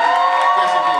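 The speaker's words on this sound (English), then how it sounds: "Can we give her a real warm welcome and warm applause?" A crowd cheering and whooping at a community gathering, a dense continuous roar of voices filling the whole moment at close, loud level.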